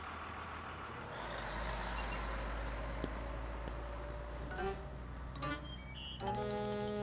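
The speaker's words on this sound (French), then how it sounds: "du grand bus scolaire qui passait dans sa rue" A large school bus on a residential street, heard as a heavy engine rumble that swells as it passes, with a hiss of air brakes and a short run of high warning beeps at the end.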